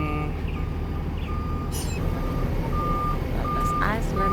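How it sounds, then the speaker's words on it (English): A Subaru shuttle bus beeps steadily while reversing, with evenly spaced tones running under a constant engine and traffic rumble, and people talking nearby. "Ini busnya shuttle bus Subaru."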